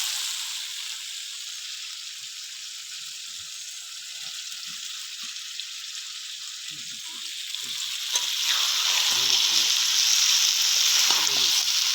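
Green jackfruit pieces fry in oily, spiced masala that has been cooked down with water. A steady close sizzle hisses throughout, swelling louder near the end with some stirring.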